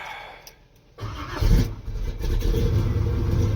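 Car engine fires after a quiet moment and revs while warming up in a garage, a rough, near rumble that surges, dips briefly and then settles into a steady elevated idle.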